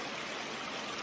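A mountain river flowing past the bank, a steady, full rushing wash of water heard close and continuous with no voices.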